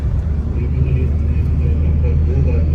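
Bus travelling by road from Yavatmal toward Nagpur, heard from a seat inside, a constant low rumbling engine and road drone filling the cabin without a break.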